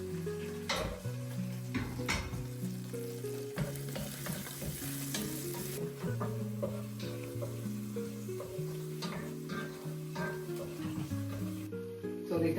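Onion and garlic sizzle in a pan for a chorizo, prawn and chicken paella, a close, steady frying hiss broken by repeated scraping and clinking stirs of a utensil against the pan.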